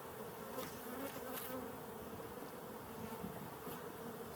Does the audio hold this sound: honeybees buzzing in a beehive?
yes